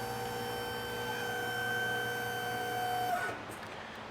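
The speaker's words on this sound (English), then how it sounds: "Just like that, our fittings are crimped." Hydraulic hose fitting crimping machine whining with a steady tonal hum as it crimps, then a quick downward-sliding release as the press stops, close and moderately loud.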